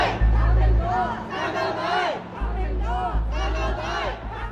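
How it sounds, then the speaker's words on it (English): A crowd gathers outside a police station in Bangkok, a loud dense mass of voices with shouting and chanting rising and falling throughout, with heavy low rumble underneath. "crowds starting to gather outside a police station in Bangkok"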